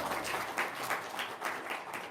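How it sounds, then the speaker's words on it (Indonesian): Audience applause at an Indonesian Islamic religious talk, a faint, steady patter of many hands with soft rhythmic swells lasting about two seconds. "Tepuk tangan dong."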